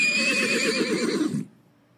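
A voice imitates a horse neighing with a loud, wavering whinny about one and a half seconds long, close to the microphone, that cuts off into near silence.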